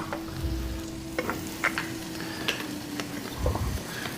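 Frozen shrimp sauté in a hot pan, a steady close sizzle broken by a few sharp clicks and scrapes of stirring, no talking.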